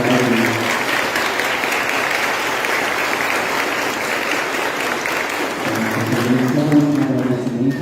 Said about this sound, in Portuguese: obrigado e um salve de palmas ao nosso Padre